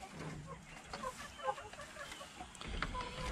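Buckeye Bantam pullets clucking and chattering in cages at a poultry yard, a steady busy murmur of soft hen calls with a few sharper notes, fairly close and moderately quiet, with no talking.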